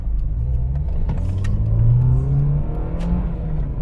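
A 2004 Subaru Forester XS 2.5 with four-wheel drive pulls away from close by, its engine note rising in steady gear-held sweeps and then falling off, with no talk over it.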